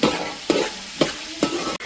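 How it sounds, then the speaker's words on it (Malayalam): Onions sautéing for chicken curry in a pan on a wood-fired stove: a steady close sizzle broken by rhythmic stirring scrapes about every half second. "ഉള്ളി വഴണ്ടുകൊണ്ടിരിക്കുകയാണ്"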